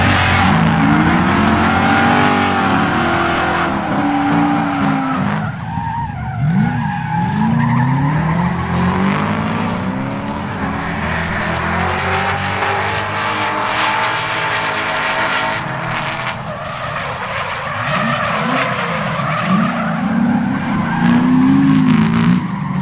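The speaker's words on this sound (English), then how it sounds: "you would be at the Freedom Factory drifting your BMW" A BMW drifting at the Freedom Factory, its engine wailing and tires skidding and squealing in long continuous slides, loud and close throughout with no speech.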